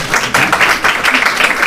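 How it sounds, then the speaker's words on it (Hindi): An audience in a hall breaks into steady, lively applause, many hands clapping together in a close, loud burst that carries on without letting up. "इनके लिए तो तालियां बजाई दो।"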